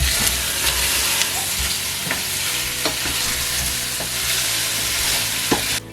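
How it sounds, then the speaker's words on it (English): Beef sautés with garlic and onion in a hot oiled pan, a dense, close sizzle with scattered sharp crackles and stirring scrapes throughout. "Sauté the garlic and onion. Make sure it doesn't get burnt. Add in the beef and mix it."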